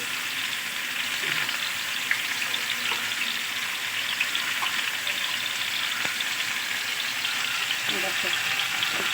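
Mango pieces fry for a sweet mango pickle, giving a steady, even sizzling hiss close by, with a few faint clicks and taps scattered through it.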